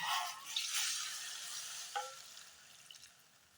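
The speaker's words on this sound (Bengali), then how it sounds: "এবার আমি এতে গরম জল দিয়ে দিচ্ছি।" Hot water is poured into a pan of frying egg and poppy-seed curry. A bright hiss bursts up at the start, then a softer bubbling sizzle slowly fades, close and quiet, with no voices.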